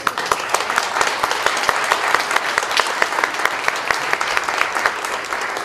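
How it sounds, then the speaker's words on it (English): Audience applause at a Poetry Out Loud recitation event, steady dense clapping from a crowd that holds at an even level throughout, with no voices breaking through. "Let's all give them a round of applause."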